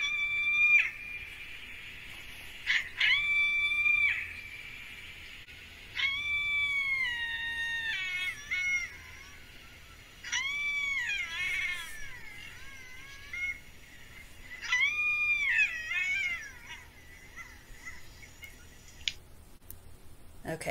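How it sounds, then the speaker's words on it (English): Coyotes call in a series of faint, distant howls and yips, with sliding, wavering cries in several separate bursts over quiet background. "So let's take a listen to the coyote call."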